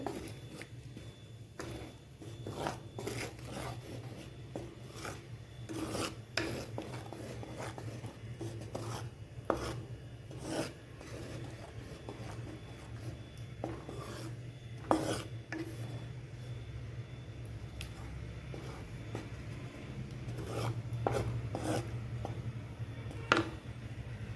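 A spoon stirs curd in a pan for a tomato curd curry, producing soft, continuous scraping and rubbing with scattered small clinks over a low background hum, close and fairly quiet.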